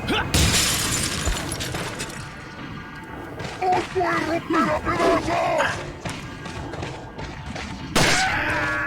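In Resident Evil 4, a character crashes through a window with a loud glass shatter and thud, surrounded by shouting villagers and crowd clamor, with another sharp crash near the end.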